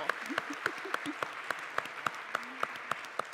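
At a TEDx event an audience claps, with a few close, sharp hand claps in a steady rhythm over a soft bed of wider applause and occasional voices.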